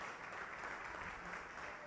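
Applause welcoming a guest at a women trade unionists' meeting of the CONTUA, a steady wash of clapping from a crowd, faint and somewhat distant, with no voices over it.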